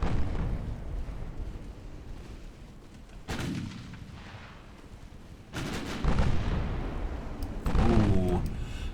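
Naval guns booming in the Ultimate Admiral Dreadnoughts warship battle game, with a steady low rumble of heavy fire and several louder bursts of shells hitting targets, all without talking.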